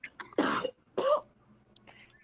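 Two harsh coughs in quick succession, close and fairly quiet, followed by a faint throaty sound.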